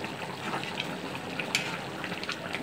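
Chicken curry with jackfruit seeds simmering in a covered pot gives off a steady, faint bubbling hiss, with small pops and crackles scattered through it and no break in the sound.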